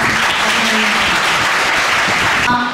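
An audience at a school celebration for Gandhi and Shastri Jayanti claps loudly and steadily for the event organisers, a dense sustained applause that tapers off at the end.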